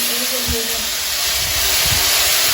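Hot mustard oil spitting with mustard seeds for a pineapple chutney tempering: a steady broad hiss with low crackles and faint pops throughout, close and continuous.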